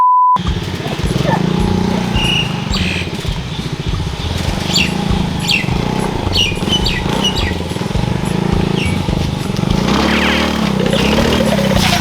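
A motorcycle engine runs steadily through a first riding lesson outdoors, its low hum continuous beneath people talking, with birds chirping in the background.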